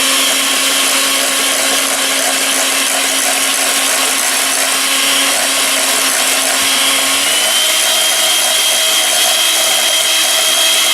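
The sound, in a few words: blender blending mayonnaise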